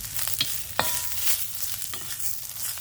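Green chilies roast and sizzle in a pan, a soft crackling fry broken by a few sharp stirring scrapes, quiet and close with no voices.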